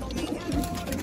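Pigeons, Asmani kabutar kept by a breeder, coo softly in a short low throaty burst, close by amid steady background noise.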